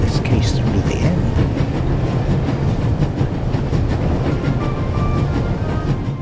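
In the video game The Raven Remastered, a train runs at full speed with a loud, constant rumble and rattling clatter of the carriages, steady and close throughout, with a voice briefly audible over it.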